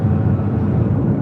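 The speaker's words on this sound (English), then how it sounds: "Have a heavy arrival on the south side. I believe this is Hawaiian Airlines flight 10." A heavy Hawaiian Airlines airliner arriving at LAX gives off a close, loud, low engine rumble that holds steady through a short moment with no talking.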